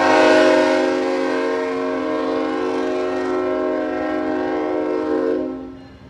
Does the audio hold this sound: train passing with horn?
yes